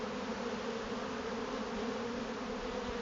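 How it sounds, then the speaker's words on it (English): Honeybees swarm close around a beekeeper during a hive inspection, a dense, steady, fairly faint buzz with no pauses and no one speaking. "I am covered in bees."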